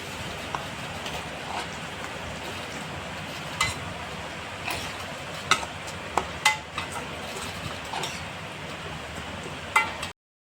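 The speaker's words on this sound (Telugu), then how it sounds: "ఈ తెల్లగడ్డ, ఆవాలు, కరివేపాకు మాత్రం వేస్తూ ఉన్నాను." Garlic, mustard seeds and curry leaves fry in hot oil in a pan for a pickle tempering, giving a steady soft crackle with a few sharp pops spattering throughout, with no talk.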